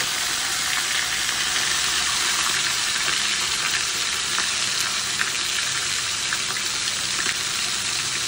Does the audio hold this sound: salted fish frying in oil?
yes